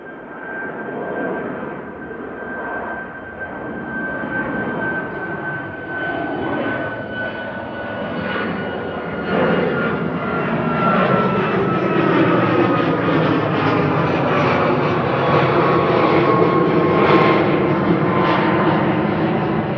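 Boeing 737 MAX 8 operated by SmartLynx for TUI at Manchester Airport, its jet engines giving a loud, sustained roar with a steady whine that swells steadily over about twenty seconds, with no talk over it.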